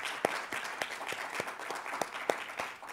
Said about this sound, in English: Should we just start by giving Julianne a warm round of applause for his film?